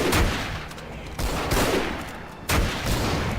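Gunshots ring out at a shooting gallery at the Darkmoon Faire in World of Warcraft, three loud, sharp reports spaced about a second apart, each trailing into a noisy decay.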